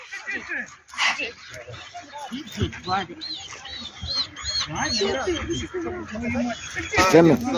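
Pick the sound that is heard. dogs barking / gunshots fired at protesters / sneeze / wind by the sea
dogs barking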